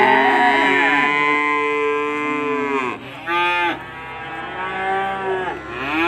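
Cattle at a livestock market low in long, loud, drawn-out moos, several calls in succession close by, with a steady background hum and little talk.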